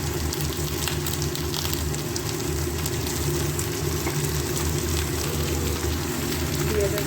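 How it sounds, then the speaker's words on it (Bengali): Sliced onion sizzling in a pan with a little oil, a steady, close crackle and hiss that runs without pause, alongside a low background hum. "পেঁয়াজটা একটু ভেজে নেব, মোটামুটি, খুব না"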